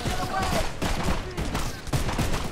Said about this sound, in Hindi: बस अंधाधुंध में गोली चलाते जा रहा हूँ